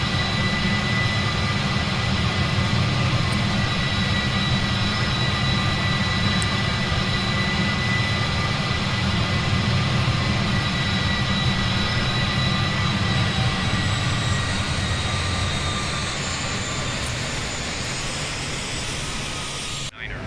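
MD-11 jet engines from Microsoft Flight Simulator 2020 roar steadily after takeoff, a loud continuous whine and rumble that holds level and then eases slightly near the end.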